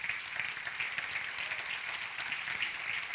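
Congregation applauding during a church service, a steady, fairly quiet wash of clapping that holds evenly throughout with no voices over it.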